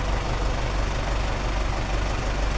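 A 1990 Belarus 82.1 tractor engine idles steadily close by, a low continuous rumble with a faint knocking texture and no talk.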